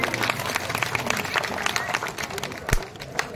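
Audience clapping at a Bengali amateur stage play, a dense patter of hands close by with scattered sharper claps and one loud thump, lasting a few seconds without speech.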